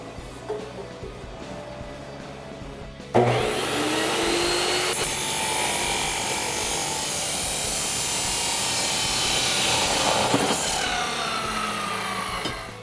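A metal-cutting saw bites into a stainless steel exhaust pipe for a 2016-2022 Toyota Tacoma, a loud steady grinding whine starting after a few seconds of quieter shop noise and running continuously until it tapers near the end.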